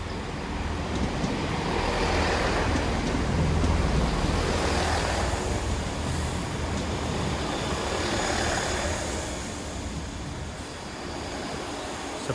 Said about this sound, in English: coming in now is a Great Western Railway service from Westbury going to Filton Abbey Wood